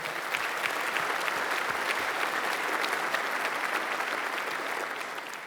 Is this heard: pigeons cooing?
no